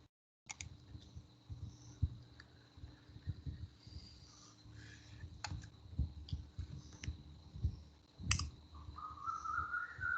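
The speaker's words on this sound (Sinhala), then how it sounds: "ඒ කියන්නේ මෙන්න මෙහෙම ක්ලික් කරොත්" Computer mouse clicks during an ICT lesson on a computer, a few light sharp clicks scattered over a low steady background hum.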